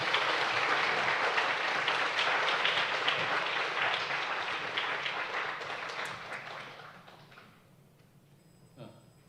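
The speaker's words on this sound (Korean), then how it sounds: "성도 여러분들의 따뜻한 박수로 환영해 주시면 긴장이 풀려질 것" Warm applause from a church congregation during a Sunday afternoon worship service, dense and steady clapping that gradually fades out over several seconds, ending with a single soft thump.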